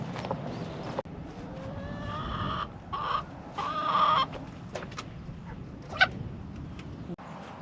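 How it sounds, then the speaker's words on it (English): Chickens cluck and murmur close by in a steady stream, with an occasional louder squawk standing out from the flock. "Hey, more chickens!"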